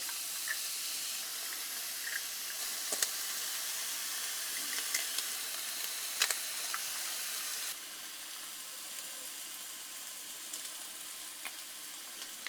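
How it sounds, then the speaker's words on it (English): Sausage sizzles steadily on a hot electric griddle, a bright continuous crackle with occasional sharper pops, no voices. "Going to go ahead and lay in our sausage just like that. Well, you can already hear it sizzling."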